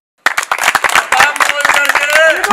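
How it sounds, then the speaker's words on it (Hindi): Applause breaks out from a crowd at a village headman election gathering, a dense burst of clapping starting abruptly and loud, mixed with cheering voices. "तालियां"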